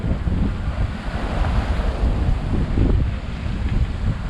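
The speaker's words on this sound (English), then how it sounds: "Oh, the wind's gusting up to 25." Strong wind gusts up to 25 knots roar across open sea during a sailboat crossing, with steady low rumbling buffeting and surf churning underneath throughout.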